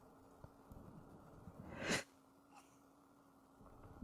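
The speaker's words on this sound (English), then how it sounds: "I just sneezed" A single sneeze from a person at a computer during a Minecraft building tutorial, a sharp burst with a short breathy build-up, heard close and alone over faint room hum and quiet clicks.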